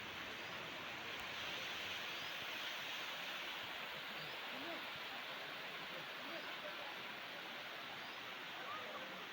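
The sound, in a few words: water flowing at Elephant Falls waterfall, Shillong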